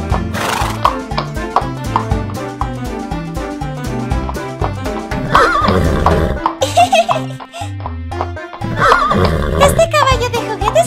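A cartoon toy horse neighs and clip-clops over busy, bright background music. Childlike giggles come in at times, and the trotting and whinnying run loud through the whole passage.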